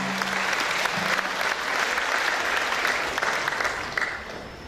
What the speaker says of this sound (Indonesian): Sekali lagi tolong diberikan tepuk tangan buat orang tua.